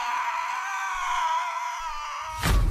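A long, shrill, sustained scream from an animated show holds steady for over two seconds and ends in a brief thump.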